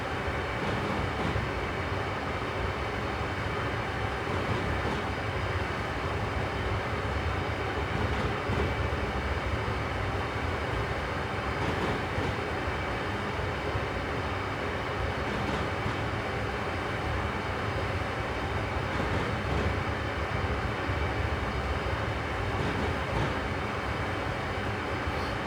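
Amtrak Acela tilting train from the Northeast Corridor in Train Simulator runs at speed with a steady, dense rolling roar of wheels and motors, loud and unbroken throughout, with no voices.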